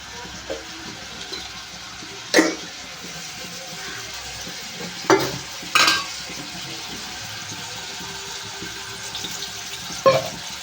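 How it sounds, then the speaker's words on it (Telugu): Sliced onions fry in oil in a kadai for mango chicken curry, a low steady sizzle broken by several sharp clanks of a spoon against the pan, with no talking. "ఆయిల్ అయితే వేసుకున్నాను కదా అయితే ఉల్లిపాయలు వేసేస్తున్నాను"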